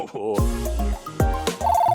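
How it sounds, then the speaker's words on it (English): A novelty ham-shaped telephone rings at close range, its bright electronic tones loud and bursting in uneven pulses, with low thumps mixed in. "It must be the ham phone."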